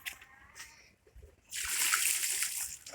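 Quiet trickling gives way to a sudden, loud, continuous splash of water pouring out while a large fish tank is drained, close and steady.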